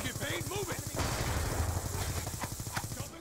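A teammate lays down rapid suppressing gunfire in the video game Black Ops 2, a fast string of clipped shots heard beneath a person's steady talking.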